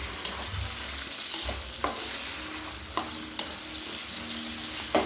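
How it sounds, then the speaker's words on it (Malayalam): Raisins and cashews frying in oil over a low flame for biryani: a steady low sizzle with a few sharp spoon knocks against the pan as they are stirred. "മുന്തിരി നേരിയ തീയിൽ വറുത്താൽ മതി കേട്ടോ"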